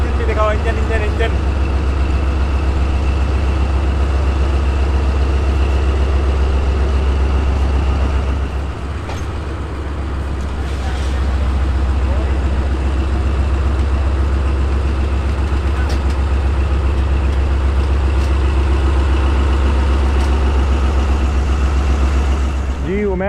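Steady, loud diesel rumble of the Khyber Mail locomotive idling on Pakistan Railway, heard close up with a constant low throb that dips briefly midway, with voices talking faintly over it.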